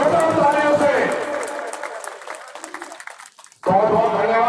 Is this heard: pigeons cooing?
no